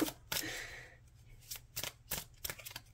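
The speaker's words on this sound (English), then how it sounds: "apparently I'm really horrible at shuffling today." Tarot cards are shuffled by hand at close range. Quick papery riffles and flicks come in uneven bursts, with a longer rustle near the start, and there is no talk.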